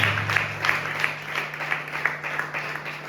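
A church congregation claps in an even rhythm at a Sunday service, beats about a third of a second apart, moderately distant, over a low steady hum.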